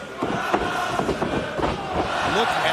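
A wrestling arena crowd at an AEW Collision event cheers and roars in a continuous wash, while voices talk over the noise.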